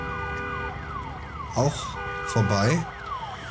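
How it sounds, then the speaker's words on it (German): An alarm system wails in the Days Gone video game, a steady siren-like tone running through the clip with brief swelling bursts of other game sound, while someone speaks briefly. "Muss mal hier die Alarmanlage ausmachen, wenn es geht."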